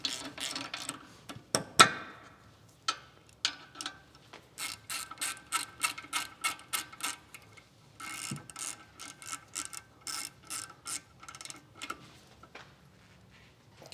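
Hand ratchet turning brake bolts on a 2016 Chevrolet Suburban rear disc brake, a series of quick, crisp clicking bursts in short runs with brief pauses between them, close and clear in a quiet workshop.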